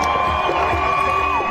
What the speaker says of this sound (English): the moment the massive crowd that packed Hostage Square all night erupts in cheers